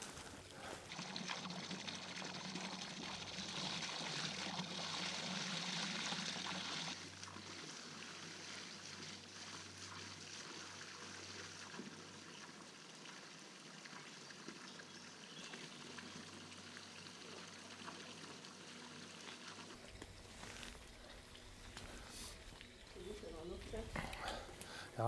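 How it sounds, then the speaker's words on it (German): Water runs from a village fountain as bottles are refilled during a long-distance hike, producing a continuous splashing trickle nearby with voices in the background. "Hier füllen wir auch jetzt unsere Wasservorräte auf."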